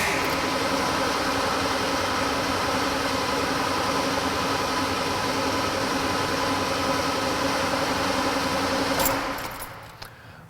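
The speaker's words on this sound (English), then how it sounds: "So this way I can crank the engine." Starter cranking a car engine without ignition so fuel fills the carburetor bowl, a steady loud whirring churn lasting about nine seconds before cutting off abruptly.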